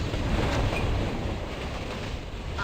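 Video game freight train with hopper cars rolling along the track, a steady dense rumble with faint rhythmic clatter, unbroken throughout the short stretch.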